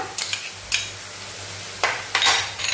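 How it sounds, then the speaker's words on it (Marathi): Ginger-garlic paste hits fried onions in a pan for a dhaba-style dum aloo masala curry, giving a few short bursts of sizzle and utensil scraping as it is stirred, with quiet gaps between. "आता आपण आलं लसूणची पेस्ट घालूया"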